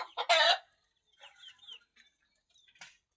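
A chicken clucks up close, a loud burst followed by softer, scattered clucks and chirps, with quiet gaps between them.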